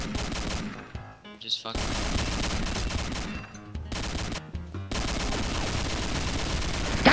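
Video game gunfire in Combat Arms rattles out in rapid bursts separated by brief pauses. Several clusters of shots crack over game noise while people talk and swear over it.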